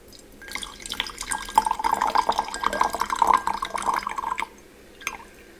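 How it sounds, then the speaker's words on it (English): Tea is poured from a teapot in the Japanese manner, a close, gurgling trickle into a cup for about four seconds that stops, followed by one last small drip. "when the Japanese pour their teapots, they're going to sit here and get every single drop out of the pot"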